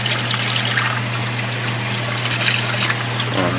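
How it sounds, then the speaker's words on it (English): Hot water pours out of an off-grid solar hot tub collector, a steady close-up trickling splash running continuously over a low pump hum. "And here's the hot water coming out."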